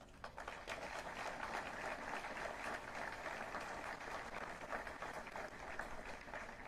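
A crowd at a street memorial for a Cleveland police officer on Lorain Avenue applauds public servants, a soft, continuous patter of many hands clapping outdoors, faint and steady for several seconds.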